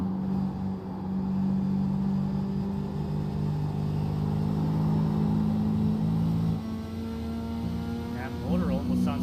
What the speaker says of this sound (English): That motor almost sounds like it may also be just a little bit hurt.